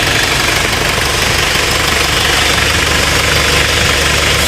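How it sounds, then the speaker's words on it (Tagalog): An older-model car engine runs at a steady idle close to the microphone, a loud, continuous rumble with a slight knocking texture and no breaks. "para makita nyo yung makina, ito yung makina niya"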